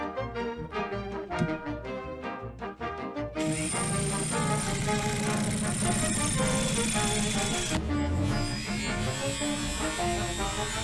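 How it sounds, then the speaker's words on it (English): A close, loud power drill whines steadily for several seconds, then shifts pitch as it bites into a metal radio chassis, after a few clicks and knocks at the start. "So I better get to work and start drilling."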